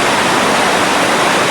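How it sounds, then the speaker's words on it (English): The Hardy Rapids on the Yellowstone River roar in a loud, dense, unbroken rush of whitewater, close and steady from start to finish with no voices. "These are the Hardy Rapids on the Yellowstone River."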